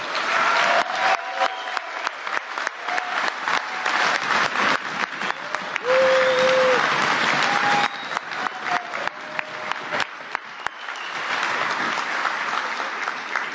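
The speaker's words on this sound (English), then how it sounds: "I'd just like to give a round of applause and a special appreciation just to all the goons that work year round to get ready" Loud applause and cheering from the crowd at the DEF CON 26 closing ceremonies in honour of the goons, the event staff, with dense clapping and a few whistles that thin out toward the end.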